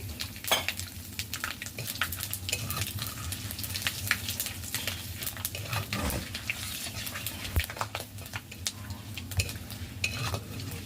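Panch phoron spices, dried chilli and bay leaf sizzle steadily in hot mustard oil, a close, continuous crackle with occasional stirring and clinks of the pan.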